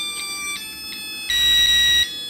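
A cheap Chinese DIY wired doorbell kit plays its electronic melody, shrill buzzy beeping tones that shift pitch, with a louder raspy crackling passage near the end.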